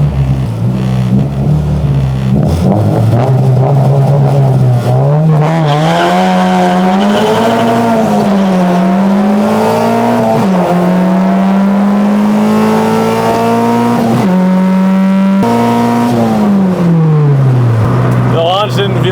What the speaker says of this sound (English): I think we're gonna hit a second gear burnout.